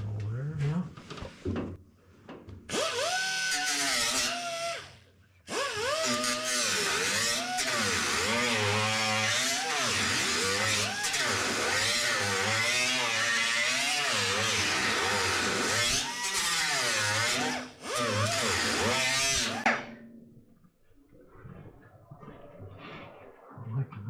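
A power trimming tool cuts along the roof of a 1948 Ford truck during roof repair, a loud, steady buzzing whine with wavering pitch that runs nearly unbroken for about fifteen seconds, then cuts off.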